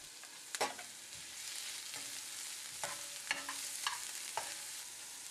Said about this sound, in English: Sauté them.